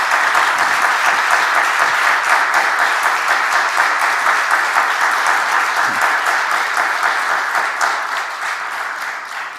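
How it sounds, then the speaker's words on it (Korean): A church congregation claps during an Easter Sunday worship service, a loud, steady wash of applause that stays full throughout and eases off slightly toward the end. "박수 한번 치면 어떨까요?"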